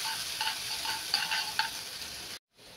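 Crushed green chilli thecha sautés in a pan, a soft continuous sizzle with light scraping stirs, ending abruptly in a brief cut before the frying hiss resumes faintly.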